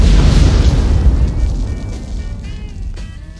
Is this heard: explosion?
yes